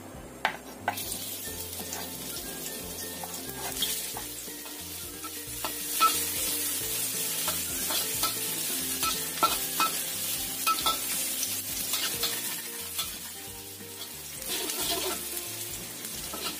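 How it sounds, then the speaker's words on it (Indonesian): Shallots and garlic sizzle in hot oil, a continuous crackling fry with occasional stirring scrapes and clicks from a spatula in the pan. "Kita tumis dulu bawang merah dan bawang putihnya"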